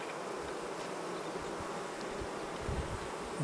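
Honey bees buzz in a dense, continuous drone at a beehive during beekeeping, a faint, steady hum with occasional louder passes.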